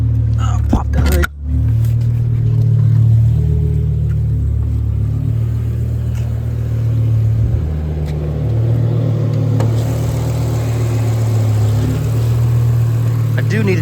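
The engine of a 2008 BMW E60 M5 with a 6-speed manual idles with the hood open, a loud, close, steady low rumble with slight swells, while a person talks over it.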